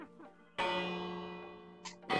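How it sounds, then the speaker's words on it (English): A rung bell gives one sharp strike followed by a long, steady ringing tone that slowly decays, with a brief fainter sound near the end and a fresh loud onset right at the close. "As I ring the prime bell"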